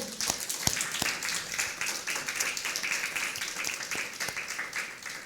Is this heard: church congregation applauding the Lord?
yes